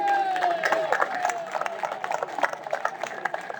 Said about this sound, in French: On est heureux de vous applaudir.